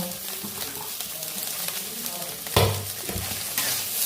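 Egg frying in a pan with chopped coriander leaves, stirred with a utensil: a steady sizzle under scraping and stirring strokes, with a sharper clatter against the pan near the end.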